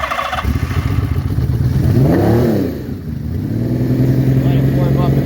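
A 1980s Honda Interceptor motorcycle engine idling and warming up up close, with a loud, throbbing idle, a rising and falling rev in the middle, then a steady run, while someone talks over it.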